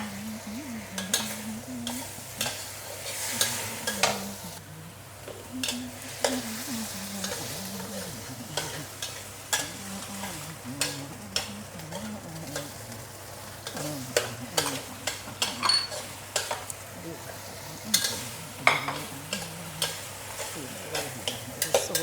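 Asparagus and scallops stir-fried in a wok, with steady sizzling and a dense run of scraping, clattering spatula strokes throughout, close and fairly loud.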